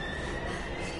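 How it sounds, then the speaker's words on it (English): A train in the video game Heavy Rain, a loud continuous rumble with a high wheel squeal held over it. "We've got to get on that train, Ethan."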